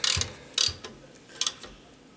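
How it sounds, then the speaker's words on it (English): Stainless steel screws on a Jetovator being tightened by hand, three short ratcheting clicks spaced apart, close and fairly quiet, with no speech. "as you tighten them, you don't want to go real fast because these are stainless screws"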